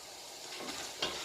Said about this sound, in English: You can increase your flame and add your 2 pounds of bacon pieces and parts